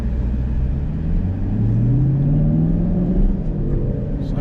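2023 Chevrolet Camaro SS with a 455-horsepower V8 driving, its deep engine rumble rising in pitch as it accelerates, steady and close from inside the car.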